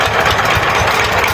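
A power tiller engine runs close and loud, a steady rough chugging rumble with no talk over it.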